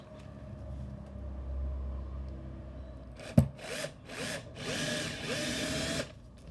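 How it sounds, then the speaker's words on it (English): Power drill boring a pilot hole into melamine board for a DIY levelling table, heard as a sharp knock followed by several short bursts of whirring drilling close by, with no talk. "If you need to, drill a pilot hole so that you don't slip."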